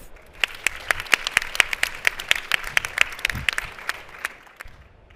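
A panel discussion audience claps to welcome three women guests onto the stage, a few seconds of moderately loud, sharp, fairly sparse individual claps that thin out near the end.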